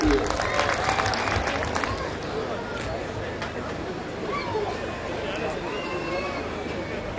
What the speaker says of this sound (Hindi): जोरदार तालियां हम चाहेंगे आशीष जी के लिए